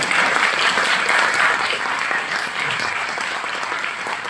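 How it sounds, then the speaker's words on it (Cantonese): A theatre audience at a Wan Chai arts centre stage play curtain call gives sustained, dense applause for the backstage team, loud and even throughout with a slight easing toward the end, with no voices. "俾啲掌聲一眾嘅幕後"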